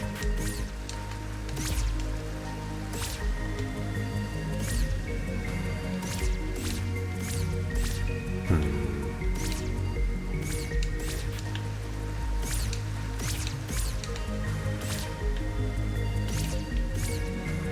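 A waterfall splashes in the video game Tunic, a continuous wet patter with scattered drip-like clicks and small splashes, steady and moderately quiet throughout.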